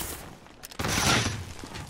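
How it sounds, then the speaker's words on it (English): Gunfire in a team shooter video game: a short burst of rapid, loud shots breaks out partway through and keeps rattling close by to the end. "Oh, someone's shooting at me, or what?"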